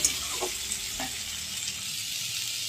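Vegetables fry in a pan with a steady, close hiss of sizzling oil, broken by a couple of soft stirring knocks, no talking.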